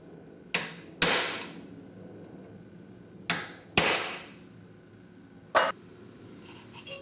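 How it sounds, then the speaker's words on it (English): Five sharp metallic hammer blows, some in quick pairs, strike a small chisel cutting out aluminum between drilled holes in a quiet workshop, each hit ringing briefly before fading. "We'll start with a small chisel, or chisel out the aluminum that's between the 2 holes that we drilled"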